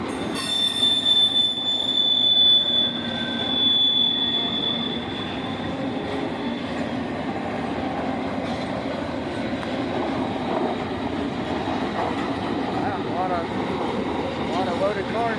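A long freight train of loaded cars rolls past at Auburndale or Lakeland, its wheels squealing with a high, sustained screech over steady rumbling rail noise, louder at first then settling into a continuous roll.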